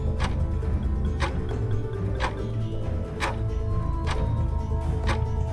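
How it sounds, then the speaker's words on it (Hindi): A clock ticks in a quiet room, giving steady, evenly spaced sharp ticks about once a second over a low background hum. "घड़ी की आवाज़।"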